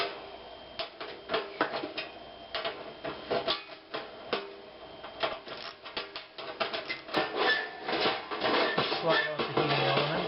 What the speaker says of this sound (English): The only thing remaining to do then is to take out this screw.